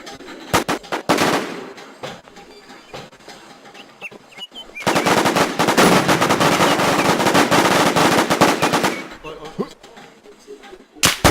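Close, loud machine gun fire in the video game War Z, with a few scattered shots at first and then a sustained rapid burst lasting several seconds before trailing off into single shots.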